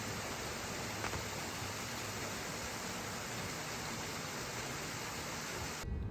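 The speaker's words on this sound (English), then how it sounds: "roaring waterfall." A loud waterfall in spring flood roars as a steady, dense wash of broadband rushing water. It stays unbroken and even throughout, heard from close by on a rainy day, with no voices.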